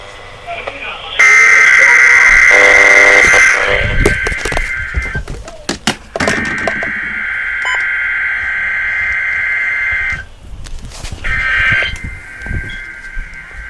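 NOAA Weather Radio Emergency Alert System weekly test, with loud piercing data bursts and long steady alert tones that start and stop several times, broken by short gaps and brief clicks.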